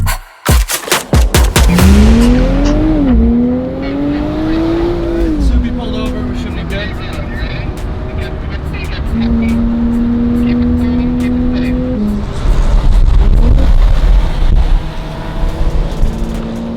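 A Nissan Z NISMO rally car and other rally cars roar through a forest, with loud rising and falling exhaust notes echoing between the trees, wind buffeting the microphone and a voice talking over it.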